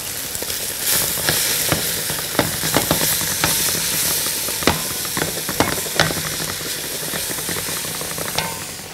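Lamb shank sizzling hard in a hot pan after being flipped, a loud continuous frying hiss peppered with sharp pops and crackles at irregular intervals, close up and with no talking.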